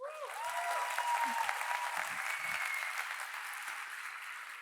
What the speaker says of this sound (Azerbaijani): mən istəyirəm bizim komandaya bir alqış gəlsin